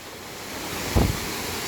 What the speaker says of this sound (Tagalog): Ayun yung falls.